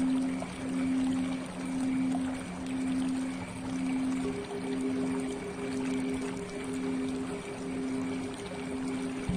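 Flowing water blends with a resonant gong drone pulsing in slow, even swells, and a second sustained tone enters partway through; a calm meditation backdrop with no voices.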